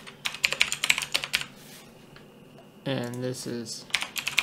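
Quick bursts of clicky keystrokes on a computer keyboard come close and clear, stop briefly while someone speaks, then start again.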